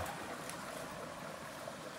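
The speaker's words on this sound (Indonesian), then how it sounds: "Airnya gak pernah berhenti, langsung dari sungai ya." Irrigation water drawn straight from a river flows steadily beside rice fields, a continuous broadband rush and trickle at moderate level with no pauses and no voices.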